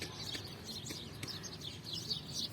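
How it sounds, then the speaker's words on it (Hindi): Birds chirp faintly in the morning, with scattered high tweets and short calls spread over a low, steady background hum and no voices. "यहाँ पे देखो चिड़ियों की कितनी आवाज़ आ रही है"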